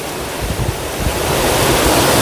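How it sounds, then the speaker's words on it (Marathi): A waterfall roars in rain, heard from above amid dense trees on a muddy slope, a continuous loud rushing wash that swells slightly, with gusts buffeting the microphone. "बघा किती सुंदर धबधबा तयार झालेला आहे"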